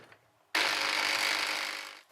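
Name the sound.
electric mill grinding sponge cake top into crumbs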